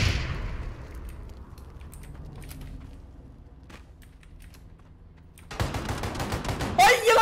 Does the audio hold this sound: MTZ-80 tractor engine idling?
no